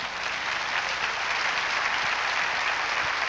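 A church congregation gives a steady round of applause during a preacher's service, an even, continuous roar of many clapping hands from start to finish.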